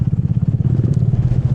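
A small adventure motorcycle rides a mountain trail at Tacadang, with a loud, close, steady engine drone and rough rhythmic pulsing that goes on throughout.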